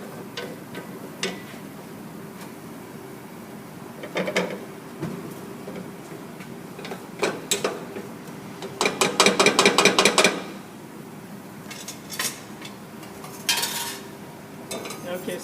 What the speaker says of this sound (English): we're going to whisk it in